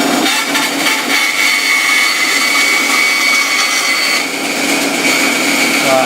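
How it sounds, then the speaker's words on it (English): A bandsaw cuts a circle in wood using a circle jig, a loud, steady, close whine of motor and blade that runs without a break. "put the saw on"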